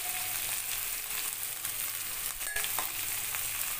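Cumin seeds and panch phoron sizzle in hot oil for a red amaranth stalk dish, a steady close crackling hiss with small pops throughout and no talking.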